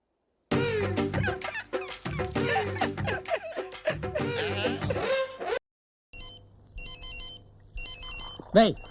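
Loud talking fills the first half, then after a short pause a phone ringtone plays in repeated electronic bursts over quiet background noise.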